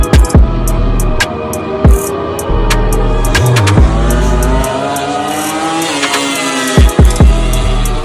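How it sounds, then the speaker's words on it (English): MotoGP racing motorcycles roar past during a practice session, loud high-revving engines rising and falling as several bikes pass close by in quick succession, with sharp bursts of noise between them. "The bikes are extremely loud."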